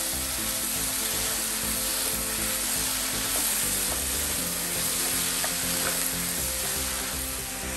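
Char kuey teow noodles stir-fry in a hot pan with a loud, continuous sizzle under a constant scraping and tossing of the noodles.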